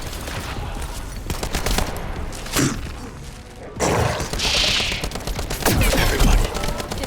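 Sustained rapid gunfire in The First Descendant video game, with dense automatic bursts and heavy thumps that stay loud and continuous throughout, with no speech over it.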